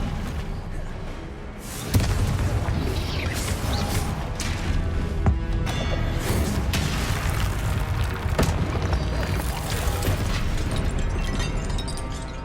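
A Confringo fire spell bursts in the video game Hogwarts Legacy, with booming blasts and crashes mixed into a dense, loud wash of combat noise that continues throughout.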